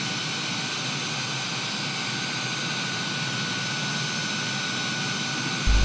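Steady, loud jet engine roar of a large airliner in flight in Microsoft Flight Simulator, a continuous broadband drone with a faint tonal whine, unbroken for the whole stretch with a slight swell at the very end.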